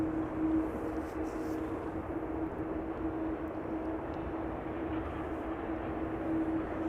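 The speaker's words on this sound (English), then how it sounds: "Challenger 605 coming from Prague" A Challenger 605 business jet arriving at Amsterdam Schiphol Airport from Prague gives a steady, moderately distant engine roar with a persistent low hum, unbroken for several seconds and with no one talking over it.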